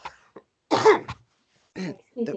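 A single close cough followed by a couple of short throaty sounds, with quiet gaps between them.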